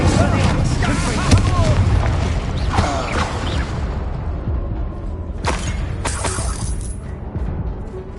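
Bombarda and Confringo spell explosions in the video game Hogwarts Legacy go off in bursts of booms and shattering blasts, with a voice shouting spell names over the combat effects.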